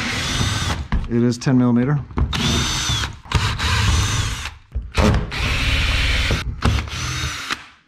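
A power drill works bolts loose under a Tesla Model Y, with loud bursts of whirring in several separate runs. Someone talks between the bursts.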